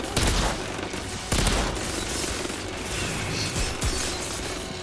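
Rapid bursts of gunfire from a three-round burst weapon in the shooter game Outriders, loud and close, with mechanical clanks and impacts between volleys and no voices.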